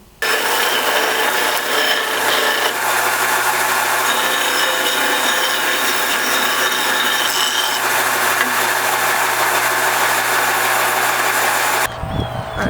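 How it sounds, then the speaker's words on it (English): Wooden bullwhip handle being sanded by hand with 220-grit sandpaper in a garage, a steady, continuous close rasping scrape that runs without pause for about twelve seconds, then stops abruptly near the end. "So now it's time to sand this down with some sandpaper."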